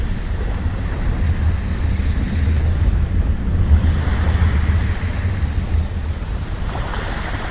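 Sea waves wash in on Bawdsey Beach in Suffolk as the tide rises, a steady rushing surf with low rumble and gusts of wind buffeting the microphone, no talking.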